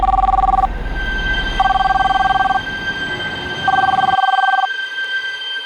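A home landline telephone rings in three evenly spaced electronic bursts, each about a second long with a gap between, clear and fairly loud over a low background hum.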